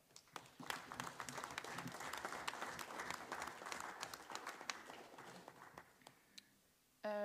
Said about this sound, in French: je pense qu'on peut déjà les applaudir pour toutes les belles planches qu'ils ont fait